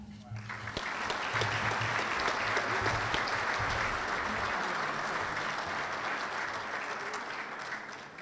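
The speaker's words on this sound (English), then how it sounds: "We have a round of applause" Steady, full applause from a banquet audience at a football foundation dinner, many hands clapping at once and holding the same level for the whole stretch.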